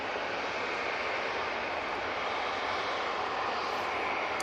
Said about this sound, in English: Got a lot of aircraft coming out again.